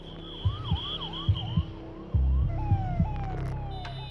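An ambulance siren on a road wails in repeated rising and falling sweeps, with a second steady siren tone behind it, over traffic rumble and heavy low thumps.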